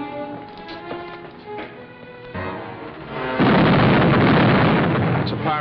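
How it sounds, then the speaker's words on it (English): Cannon fire from a pirate ship in a 1953 adventure film serial, a loud sustained roar of booming blasts that swells partway through and stays heavy to the end, with no voices over it. "It's a pirate, sir. It's Captain Kidd. Man the guns. Return the fire"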